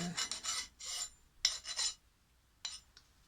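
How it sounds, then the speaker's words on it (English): A blade scrapes the sharp edge off a metal lathe cutting tool made for a four-way tool post, giving a few short dry rasping strokes with pauses between them, close and moderately loud. "I'm going to just scrape the sharp edge off there."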